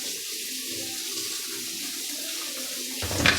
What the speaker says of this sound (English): Just going to add a touch more water